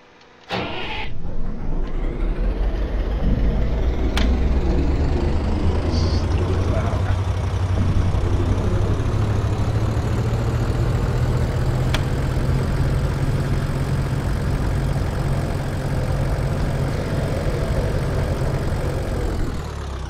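Engine of a 232 scout car idling in the World War II Online game, a loud steady low rumble lasting throughout after a brief start-up clatter, with occasional faint mechanical clicks.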